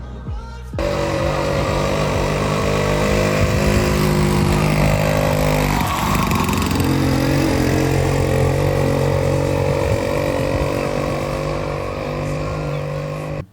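A homemade 50cc moped engine runs steadily and close by for the whole stretch, a constant buzzing putter with a slight shift in pitch around the middle, alone without talk.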